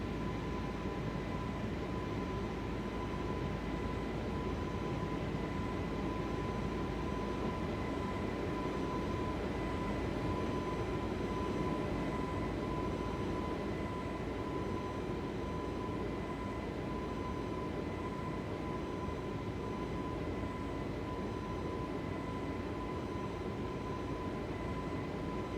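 Airbus A321LR jet engines in Microsoft Flight Simulator 2024, climbing after takeoff from Calgary: a constant, loud broadband roar with a thin steady whine running unbroken underneath, no talk heard.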